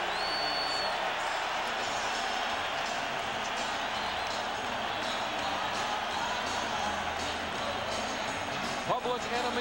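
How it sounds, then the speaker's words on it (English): A Denver arena crowd at a 1994 NBA playoff game roars loudly and steadily as Seattle's Detlef Schrempf fouls out, a dense, sustained wall of booing and cheering from thousands. "wait till you hear it from the crowd."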